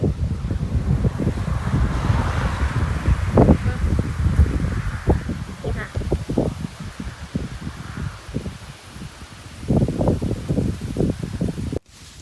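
Gusty wind buffets the microphone in open farm fields on the outskirts of town, a rough, roaring rush that swells and fades in uneven bursts throughout.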